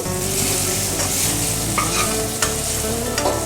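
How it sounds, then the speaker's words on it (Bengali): Potatoes frying in oil with a dense, continuous sizzle, close up, punctuated by occasional scraping stirs and a utensil clink. "এই যে আলুটা ভাজছি"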